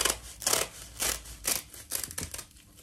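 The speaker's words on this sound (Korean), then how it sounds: "김을 꺼내 주신 다음에 반으로 잘라 주시면 됩니다." Scissors snip through sheets of dried seaweed (gim) to cut them in half for a Korean kimbugak snack, a series of crisp close crunching cuts in an uneven rhythm, with no talking.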